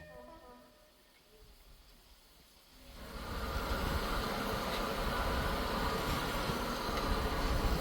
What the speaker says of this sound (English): As we depart with the first train